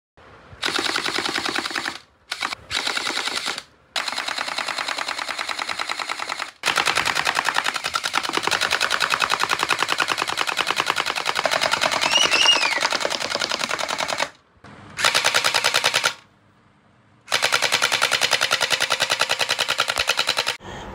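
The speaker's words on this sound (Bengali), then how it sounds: "এখন আমরা এখানে ওয়াটার বম যেগুলো আছে সেগুলো আমরা এখন বোতলে লোড করে ফায়ার করে আপনাদের দেখাবো" A gel ball blaster AK-47 toy gun fires water beads in long rapid automatic bursts, loud and close, broken by short pauses between strings of shots.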